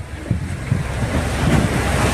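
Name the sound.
sea waves of Iloilo Province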